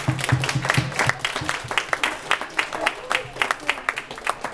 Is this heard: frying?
no